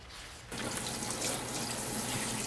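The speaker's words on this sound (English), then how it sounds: "one of the worst things you can do while prepping a Thanksgiving turkey: rinsing it off" Tap water runs steadily into a kitchen sink, rinsing a raw Thanksgiving turkey, starting suddenly after a brief quiet moment and then flowing loud and constant with no talk.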